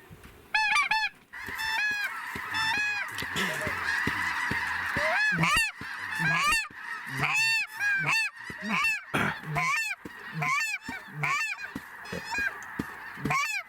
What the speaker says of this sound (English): Yeah, there's definitely snow geese.